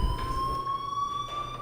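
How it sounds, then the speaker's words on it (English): Fire alarm sounding a steady, high electronic tone that holds without a break, moderately loud, with a low thump at the start and no talking. "do you hear that fire alarm?"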